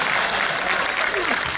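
Applause from the audience at a Hindi comedy poetry show fills the whole moment, a dense steady clatter of many hands clapping close by.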